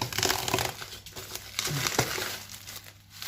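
Plastic foil being crinkled and pulled off a large mail package holding breeding containers, a close, continuous rustling crackle with a few sharper crunches.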